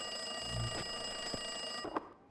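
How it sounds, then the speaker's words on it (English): An office desk phone rings in Max Payne 2, its steady electronic trill running continuously through the game's ambient noise, with a few soft knocks and a brief clatter near the end before it cuts off. "Winterson's phone was ringing."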